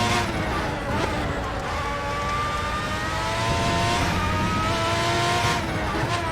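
A V12 Formula 1 car screams around the Nordschleife, its high-pitched engine rising and falling through gear changes with faint tyre squeal, loud and close throughout.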